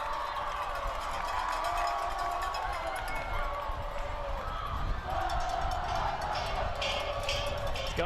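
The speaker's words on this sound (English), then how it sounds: "the Summit crowd's jumping up and down" A high-school football crowd at an Independence vs Summit game jumps up and down in the stands, producing a steady, loud rumble of stomping and crowd roar heard from a shaking press box, with a voice over it.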